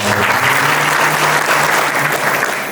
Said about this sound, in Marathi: आता इथं ज्यांनी ज्यांनी देणगी दिली ना त्या सगळ्यांसाठी टाळ्या वाजवा.